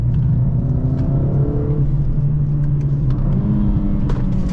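A Mercedes-Benz CLA45S AMG engine revs high from inside the cabin, its note climbing through several sweeping rises over a steady low rumble, loud and close.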